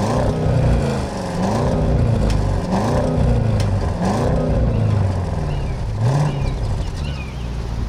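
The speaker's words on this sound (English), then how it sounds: "Take a listen to a little rev." A 2022 Audi S8 twin-turbo V8 revs through its quad exhaust, several rising and falling throttle blips over a steady loud idle, close and with no talk.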